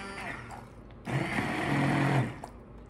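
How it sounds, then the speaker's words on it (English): Stick blender mixing hot process activated charcoal soap: a motor whirs up abruptly after a quieter stretch, running loud and steady with a slight churning texture for over a second before cutting off. "you want to use your blender to try and kind of accelerate that saponification"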